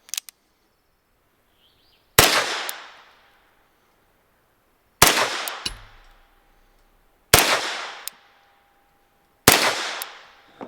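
Four suppressed rifle shots fired with supersonic ammunition through a micro suppressor can, each a sharp loud crack with a short decaying tail, spaced a few seconds apart, with a small click before the first and no talking.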